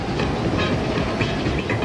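Airport express train running steadily through tunnels and over bridges along the coast, a continuous loud rumble with rhythmic clickety-clack of wheels on rails, no voices.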